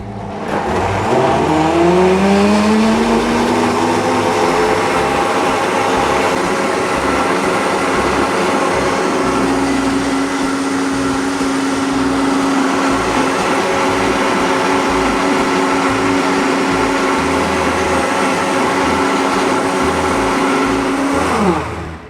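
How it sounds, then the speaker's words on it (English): A high-speed vortex blender purees roasted butternut pumpkin and maple syrup soup, spinning up with a rising whine and then holding a loud, steady roaring drone that shifts slightly in pitch before cutting out. "it's a vortex blender"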